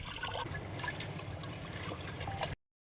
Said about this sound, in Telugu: ఇప్పుడు శుభ్రంగా చికెన్ కడుక్కుందాం. ఇంకోసారి మళ్ళీ శుభ్రంగా కడుక్కుందాం.